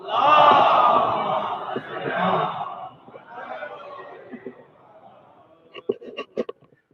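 A large crowd loudly chanting together in unison, the roar fading into scattered voices and a few sharp claps at the end.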